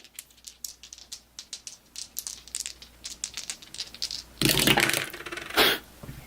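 Dice roll and rattle across a tabletop during a Hostage Negotiator board game, heard as many quick clicks of shaking in a hand and then two louder clattering tumbles, close and with no talking.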